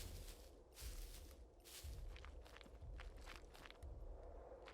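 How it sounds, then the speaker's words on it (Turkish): In the survival game SCUM, giant robot mechs stomp somewhere nearby with heavy, dull thuds about one second apart, faint and distant under steady ambient noise. "mekaların adım sesleri geliyor"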